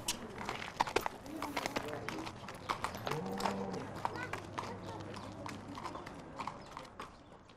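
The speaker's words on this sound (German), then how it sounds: "Geh nur einen Schritt da mal hin und den Trab zurück." Hooves of a 26-year-old horse clip-clopping at a trot on hard ground, a brisk, even rhythm of sharp close hoofbeats with faint bird calls in the background.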